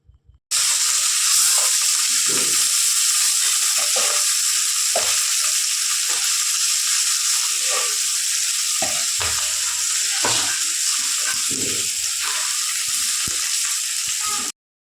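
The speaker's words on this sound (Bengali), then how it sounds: "মাছগুলোকে ভালো করে বেশ লাল লাল করে এখানে ভেজে নেবে।" Fish sizzling and spitting in hot oil in a wok, a steady bright frying hiss that runs nearly the whole time, close and loud, with occasional soft stirring knocks and no talk.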